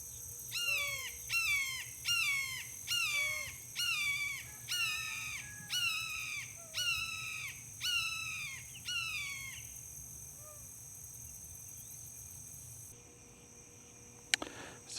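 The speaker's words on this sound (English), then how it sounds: "oh, calling again. That's a little hawk, an accipiter, probably a Cooper's sharp-shinned." A small accipiter hawk, probably a Cooper's or sharp-shinned, calls in a wetland park with a run of about nine evenly spaced, sharp, repeated notes. The calls are moderately near and fade out before a quiet stretch.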